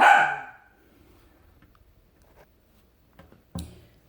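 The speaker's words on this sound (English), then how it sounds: "Roman was barking again." A single loud dog bark rings out at the start, then quiet with faint rustles, followed by a second sharp thump or bark near the end.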